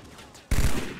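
A loud, close burst of battle rifle gunfire from Halo 2 cracks out abruptly halfway through after a quiet moment, continuing as rapid shots.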